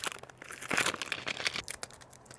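Plastic packaging of bird scare tape crinkles and crackles as it is torn open by hand in a garden, a short, close flurry of sharp rustles.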